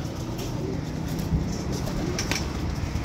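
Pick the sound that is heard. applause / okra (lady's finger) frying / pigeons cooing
pigeons cooing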